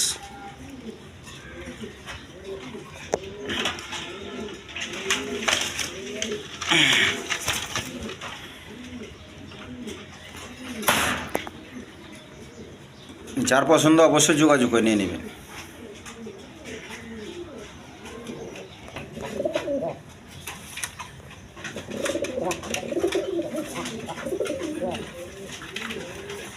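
Large Gopalganj pigeons at a seller's coop coo in soft, repeated throaty bursts, with one louder spell midway, while someone talks over them nearly throughout.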